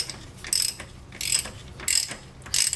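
A ratchet tightening a harmonic balancer bolt on a car engine, heard as four quick bursts of close clicking, evenly spaced about every 0.7 seconds, with no voices.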